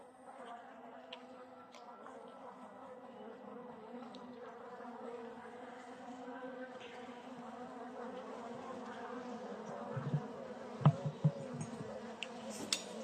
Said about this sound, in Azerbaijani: Havalar soyuq olduğu üçün biraz agresivdir arılar.